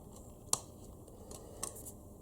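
Two quick, close snips from cutting a plastic 1/18 scale model car body (a Hobby Design DMC Huracan kit), about a second apart, quiet against a faint background.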